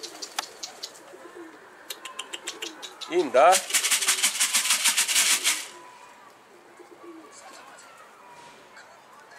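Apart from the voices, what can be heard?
pigeon cooing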